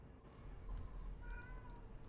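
A pet cat meows faintly a couple of times over a low, steady hum of background noise, the thin calls sitting soft and somewhat distant.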